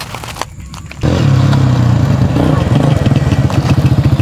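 An old motorcycle that had trouble starting catches after a second of quiet scraping, then rumbles loud and close at a pulsing, uneven idle with a throbbing low beat.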